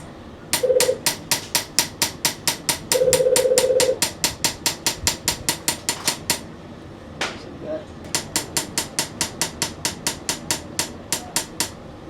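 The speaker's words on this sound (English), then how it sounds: "Depending on how angled you have the chisel, it's how forward it moves per each hit, and also how hard you hit it, it's how thick the lines are." Close, sharp metallic taps ring out as a hammer strikes a chisel to engrave lines into a Japanese knife blade in a Sakai knife workshop. The strikes come in rapid, even runs with short pauses, and a voice speaks briefly.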